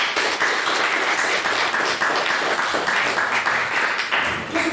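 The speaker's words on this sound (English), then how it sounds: "can we please have another round of applause" An audience at a debate on populism applauds after a maiden speech, a full, even round of clapping sustained at steady loudness from start to finish.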